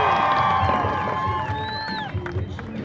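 A crowd at a Camp Jeep show cheers and whoops, with whistles and shouting voices over a continuous roar of the audience, fairly close and steady before tapering slightly.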